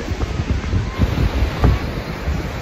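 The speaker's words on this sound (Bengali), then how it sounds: "চারপাশে ঢেউগুলো" Ocean surf at Corrimal beach in Sydney, a steady rush of breaking waves mixed with gusty wind buffeting the microphone, loud and close throughout.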